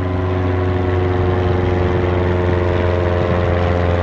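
Steady drone of a fixed-gear propeller airplane, a continuous engine hum with strong low tonal bands holding at an even loudness throughout, no voices.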